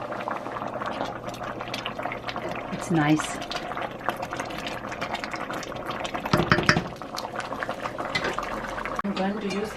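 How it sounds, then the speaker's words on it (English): A pot of Tibetan tsoma pama bubbles steadily on the stove, a continuous close simmer with occasional stirring clinks beneath someone speaking. "Now this has been boiling for about 15 minutes."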